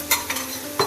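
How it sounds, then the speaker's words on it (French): Stuffed cauliflower paratha flatbread cooking over medium heat in a pan, a soft steady sizzle with a couple of brief scraping or stirring touches, fairly quiet and close. "Je l'ai laissé cuire 1 minute à feu moyen."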